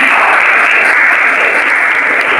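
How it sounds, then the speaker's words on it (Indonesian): A class of students applauds in a classroom, producing a steady, dense wash of clapping that stays loud and even from start to finish. "Tepuk tangan."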